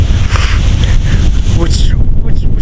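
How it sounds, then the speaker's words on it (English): Loud wind buffets the microphone outdoors beside the water at a camping and fishing spot, a continuous gusty roar with a brief fainter tail at the end. "It's a little windy, but it is supposed to die down here soon."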